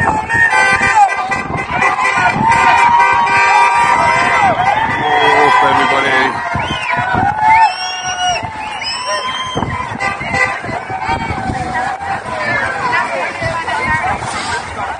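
A large outdoor crowd at an immigration protest in Dublin fills the air with loud, continuous babble and shouting. Car horns toot repeatedly nearby as voices carry close and far.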